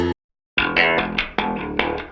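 An industrial rock synth or bass tone modeled on an album plays after a short gap, with distorted, reverb-washed notes struck in a funky, uneven rhythm, loud and up front.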